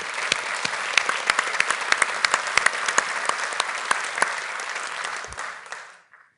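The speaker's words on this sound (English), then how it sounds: "give a round of applause to the panel" An audience applauds a panel at a business awards keynote event, a dense burst of many hands clapping with sharp individual claps standing out, sustained for several seconds before fading out.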